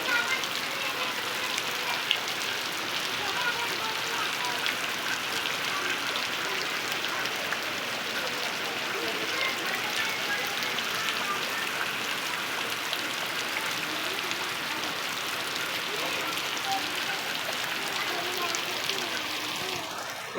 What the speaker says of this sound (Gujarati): ભૂકા કાળે આમ વરસાદ પડે છે.